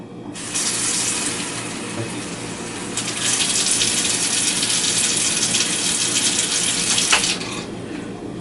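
A kitchen sink tap runs for several seconds, a loud, close, steady gush that turns on, grows fuller midway, then cuts off, with no talking.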